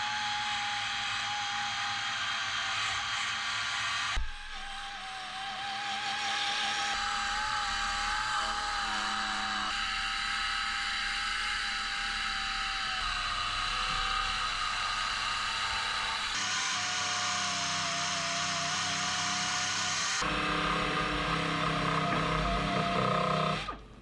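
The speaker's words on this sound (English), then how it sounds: "I'll use a wire wheel to remove the seam sealer to expose the spot welds that will need to be removed" A wire wheel on a power tool strips seam sealer from a car's quarter panel, giving a steady, loud whirring whine that wavers in pitch. Several brief pauses and restarts break it up, with no talking.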